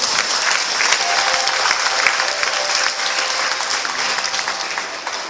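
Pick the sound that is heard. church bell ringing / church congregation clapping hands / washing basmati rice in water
church congregation clapping hands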